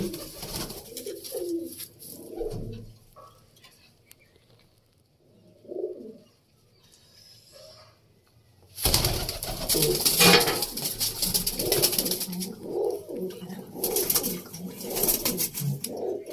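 Pigeons in a loft coo close by in soft, throaty bursts with quiet gaps between them, then a denser, louder stretch of cooing and rustling in the second half.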